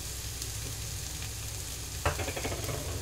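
Spice paste of onion, cashew, raisin and coconut sizzles in a pan for a jackfruit dum pukht, a soft, steady frying hiss with a brief clatter of stirring near the end.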